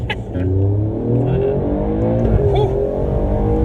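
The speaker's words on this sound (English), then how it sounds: "that was a little wheel spin there between first and second at like 40" An Alfa Romeo Giulia Quadrifoglio accelerates hard with brief wheel spin between first and second gear, its engine loud and rising in pitch from inside the cabin.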